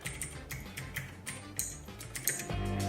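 Typing on a FINEDAY 3.0 Bluetooth mechanical keyboard with a full aluminum body and aluminum keycaps gives a steady run of sharp, close keystrokes with no talk.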